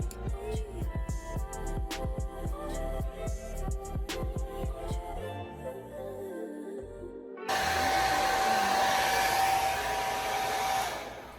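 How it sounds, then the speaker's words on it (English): A blow dryer runs steadily on braided hair, a loud constant whirring rush that grows stronger and brighter partway through with a steady whine, and no voices. "finishing up here with the blow dryer"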